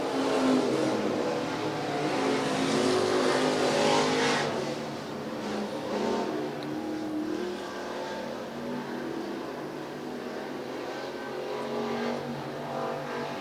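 IMCA stock cars race around the USA Raceway track with a continuous roar of engines from several cars, rising and falling slightly as they circle at a moderate distance.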